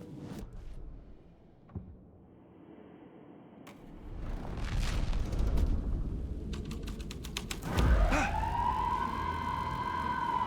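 Police car siren in the video game Alan Wake 2, a rising wail that swells in partway through and holds steady and fairly loud over a low rumbling background with some clicking.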